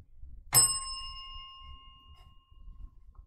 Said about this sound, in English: Ding, you got to ring the bell.